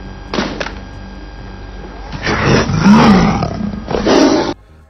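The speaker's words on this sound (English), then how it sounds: "Flick and Pospisil set about creating a more animalistic range of noises with pig squeals and jaguar roars mixed into his vocal range" Animalistic robot vocalisation blending pig squeals and jaguar roars, built as the voice of the ED-209 robot from RoboCop: loud growling roars in several bursts, harsh and close, with a short metallic clank near the start.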